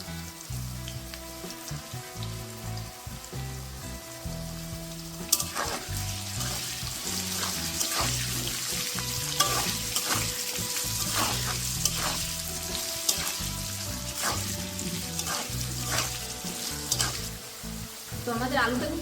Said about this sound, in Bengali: তো আমাদের আলুটা কিন্তু ভাজা হয়ে এসেছে,